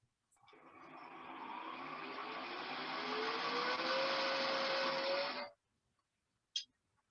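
A wood lathe turning a jewelry caddy lid hums steadily for about five seconds, its pitch climbing as the spindle spins up, then cuts off abruptly, leaving a single faint click.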